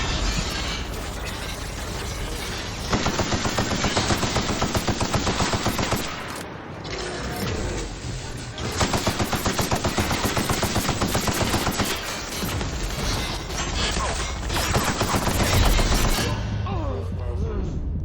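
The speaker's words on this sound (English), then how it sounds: "Stop shooting me!" Rapid automatic gunfire from a turret in the video game Peril on Gorgon rattles loud and close in long, dense bursts, with short gaps between them and game sound effects running throughout.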